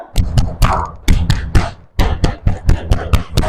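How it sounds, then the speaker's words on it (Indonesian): Students in an Indonesian classroom clap out the "tepuk semangat" routine, sharp, near, patterned claps in quick groups separated by short gaps, with no talking over them. "1, 2, 3, tepuk semangat"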